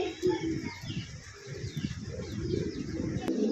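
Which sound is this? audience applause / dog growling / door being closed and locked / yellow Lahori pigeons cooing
yellow Lahori pigeons cooing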